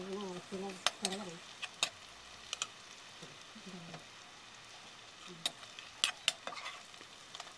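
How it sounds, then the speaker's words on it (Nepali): Onions frying in a pan give a soft, continuous sizzle, broken by several sharp scraping clicks as a utensil stirs them. The sound is faint and close, with a voice heard faintly in the background. "प्याज रातो हुने बेलासम्म का पाक्न दिनुपर्छ"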